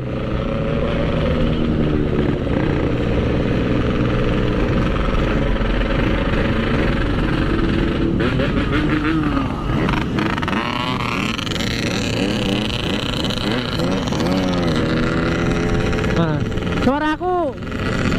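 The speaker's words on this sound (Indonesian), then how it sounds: "suara knalpotnya ini kurang coy" A Yamaha RX-King motorcycle fitted with a C17 exhaust idles and revs at a rider gathering at GOR Bekasi, a throaty exhaust drone rising and falling, with a voice speaking over the engine noise.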